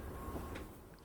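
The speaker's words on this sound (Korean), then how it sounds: "신창 가는 급행열차가 들어오고 있습니다." A Seoul Subway Line 1 express train bound for Sinchang arrives at the station, a steady low rumble of rolling wagons filling the platform at moderate, even loudness.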